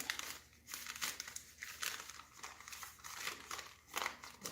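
Paper is folded and creased into a planting vessel, making soft, close crinkling and rustling in uneven waves, quiet throughout, with no speech.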